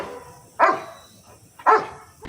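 A rescue dog searching for a buried father and son in Rio Grande do Sul barks twice, loud and sharp, each bark clearly separated, with a third bark starting at the end.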